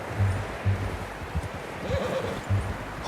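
A horse in Red Dead Redemption 2 snorts and whinnies softly amid rhythmic low hoof thuds and game ambience, fairly close.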